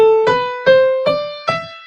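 Several notes of a Mixolydian-mode scale sound in steady succession on a resonant keyboard-like instrument, each attack ringing on while the next begins, close and without talk.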